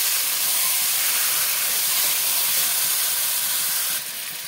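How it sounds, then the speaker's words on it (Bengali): Rooster chicken sautés in spice masala for a thin curry, giving a loud, steady, close hiss of sizzling that runs unbroken and drops slightly in level near the end, with no talking. "দিয়ে দেবো চিকেনটা। চিকেনটাকে ভালো করে কষাতে হবে মশলার সাথে।"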